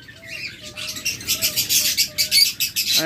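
A breeding pair of caged pet birds gives short repeated chirps and calls with some wing flutter, close and moderately loud, the chatter growing busier toward the end.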